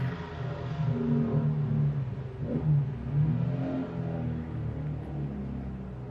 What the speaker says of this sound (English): Lots of loud cars.